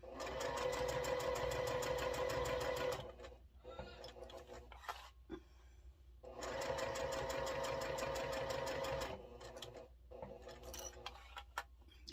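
A sewing machine stitches a fabric Post-it note case a quarter inch from the edge, running in two long steady bursts with a pause between, loud and close with light clicks during the pause.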